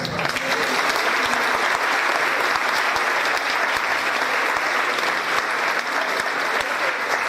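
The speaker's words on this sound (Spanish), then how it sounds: "Otro aplauso." An audience at a conference session gives a continuous round of applause to a presenter, with dense clapping, sharp individual claps and some crowd murmur throughout.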